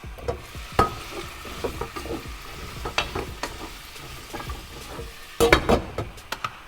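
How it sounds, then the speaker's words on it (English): Vegetables, including carrots and potato, sizzle in oil in a pot for a Caribbean curried lentil stew while a spoon stirs them, giving steady frying hiss broken by irregular scrapes and clinks, with a louder burst of stirring near the end. "grab yourself a stirring spoon and just stir it around a little bit every now and then to make sure that the vegetables are fully coated with the oils"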